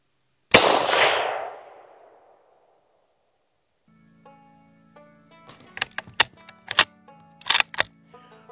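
A single sharp rifle shot, fired from a stable stick while stalking, cracks loudly and rings out into a fading echo, followed by a low mechanical hum and several metallic clicks and clacks of the bolt being worked to reload.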